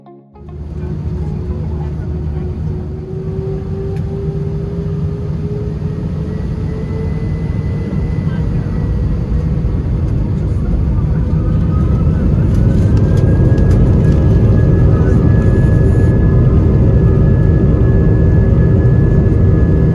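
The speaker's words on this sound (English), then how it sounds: "it was a beautiful departure on a very clear September day at Heathrow" British Airways airliner on its takeoff roll at Heathrow, a steady loud engine roar that builds gradually as jet whine rises in pitch, heard from inside the cabin.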